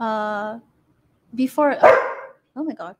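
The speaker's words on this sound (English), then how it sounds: "apologies for my dog." A pet dog barks and yips at close range, a few sharp barks between short stretches of silence, with someone speaking briefly alongside.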